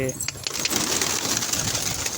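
Pigeons coo softly at a home where cats live alongside them, the low calls murmuring beneath a person talking nearby, with faint background clatter.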